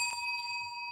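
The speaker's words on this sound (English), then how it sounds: "130 is the third bell." A single bell struck to mark time in a debate rebuttal round, one clear metallic ding that rings on with a steady sustained tone and no voices.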